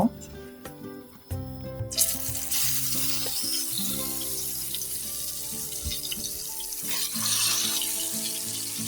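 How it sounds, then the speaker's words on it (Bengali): Eggplant slices drop into hot oil in a frying pan and burst into a loud, sustained sizzle after a few opening clinks, with voices talking over the frying. "এখন আমি বেগুনগুলি ভেজে নেব।"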